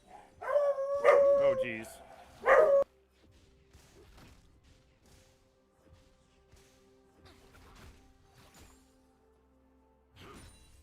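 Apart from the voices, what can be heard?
beagle howling and barking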